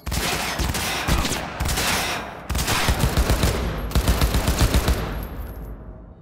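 Enemy gunfire in Cyberpunk 2077, loud dense bursts of automatic weapon fire rattling almost without pause, with rapid repeated shots and a few short gaps before it fades at the end.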